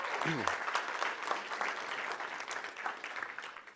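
Audience applause at a TEDx talk, steady dense clapping throughout from a crowd, with a brief voice at the very start.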